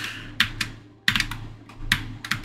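Fingers type on a muted mechanical computer keyboard, with clusters of sharp, close clicks and thocks in uneven bursts separated by brief pauses, heard alone without speech.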